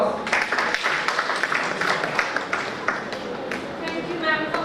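A talk show audience applauds to welcome a guest onto the stage, a steady wash of clapping that lasts throughout and sounds fairly close. A voice speaks over it.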